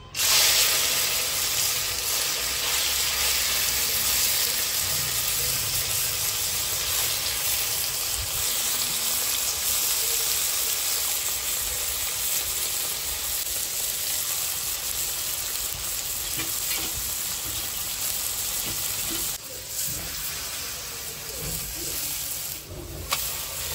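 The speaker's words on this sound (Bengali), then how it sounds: "মাছগুলো এইভাবে দুটো ভেজে নেব।" Small kechki fish coated in salt and turmeric fry in hot oil in a kadai, producing a loud, continuous sizzle and hiss that holds steady throughout, with no talking.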